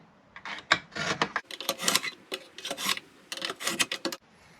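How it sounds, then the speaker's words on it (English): A die grinder polishes up a metal part during a Honda Accord H22 swap radiator fitment, heard as close, repeated bursts of raspy rubbing and filing with short pauses between strokes. "I think I'm just gonna use my die grinder and just polish it up."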